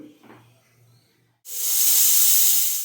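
A pressure cooker boiling prawns lets out one sudden, loud, sustained hiss of steam after a brief quiet moment, holding steady until the end.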